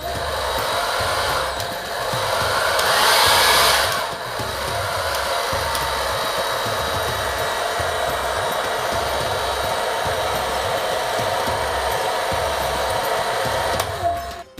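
A hair dryer on low heat drying natural curly hair whirs steadily up close, a continuous airy rush with a brief dip and swell in the first few seconds before it settles into an even drone, with no talking.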